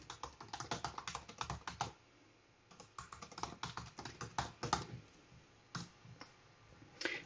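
Fast bursts of typing on a computer keyboard, close up, with clustered clicks, a short pause, then more rapid keystrokes, no voices.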